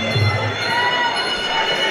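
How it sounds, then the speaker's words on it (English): A crowd at a Muay Thai fight night cheers and shouts in a continuous loud roar before the bout, with a voice talking over it. "The crowd are pumped."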